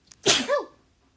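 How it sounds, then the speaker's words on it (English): A single sharp sneeze bursts out close up, a quick intake followed by a loud explosive release that fades within a second. "I'm going to sneeze."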